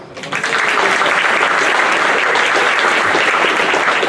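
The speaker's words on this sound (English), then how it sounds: "Please join me in welcoming him to the podium with a warm round of applause" An audience welcomes a speaker to the podium at a National Junior Honor Society induction ceremony with loud, dense applause that swells in within the first half second and holds steady throughout.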